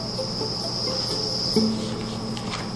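Crickets chirp steadily in a continuous high trill, close and fairly loud, with a low background hum underneath.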